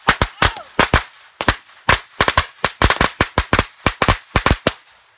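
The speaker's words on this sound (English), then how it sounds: "we'll push pause and do some fireworks" Fourth of July fireworks popping outdoors in a rapid, irregular string of sharp bangs, about two dozen reports with brief gaps between clusters, fairly loud and close, no talking.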